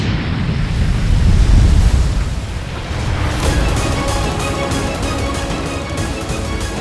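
A loud explosion rolls out in a deep boom and a sustained roar, then gives way to crackling debris and a rushing, wind-like rumble.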